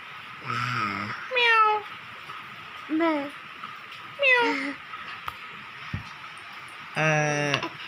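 A person imitates a cat, giving five drawn-out meows with short pauses between them, fairly close and clear.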